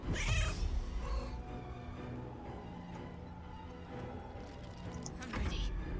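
A cat meows in the video game Baldur's Gate 3, with short caterwauling cries at the start and end over game sound and voices talking.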